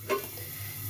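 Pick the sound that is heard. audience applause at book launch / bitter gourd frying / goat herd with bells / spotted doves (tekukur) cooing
bitter gourd frying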